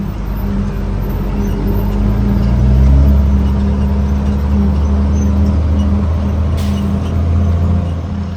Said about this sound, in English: I get to drive the old Pepsi truck today